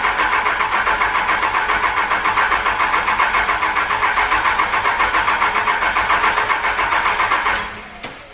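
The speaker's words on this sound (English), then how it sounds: "So I'm just turning the bus off and turning it back on so it injects a little bit of fuel each time." A diesel engine on a school bus being converted into a skoolie, with a fuel problem, cranks loudly with a fast, steady, rhythmic starter chug for about seven seconds, then stops abruptly.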